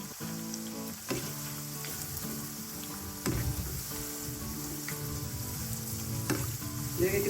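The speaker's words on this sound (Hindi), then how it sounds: "अब इसमें हम चम्मच चलाएंगे ताकि अच्छी तरह दोनों तरफ से पक जाए।" Aloo pyaz pakoras frying in hot oil while a spoon turns them, a dense continuous sizzle broken by sharp metallic taps and scraping stirs, close up.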